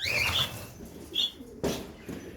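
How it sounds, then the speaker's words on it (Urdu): Pigeons flap their wings in a few short bursts nearby, with faint cooing and chirps in the background. "یہ دیکھیں، یہ میرے کبوتر ہیں جی۔"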